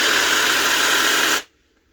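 An OZITO cordless reciprocating saw runs unloaded with a steady, loud whirring buzz for over a second, then cuts off abruptly into silence.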